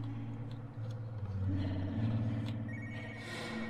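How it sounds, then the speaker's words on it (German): A telephone rings in the horror video game Spooky's House of Jumpscares, a faint, buzzing ring heard over a low droning game ambience. "irgendein Telefon ist da gerade geklingelt"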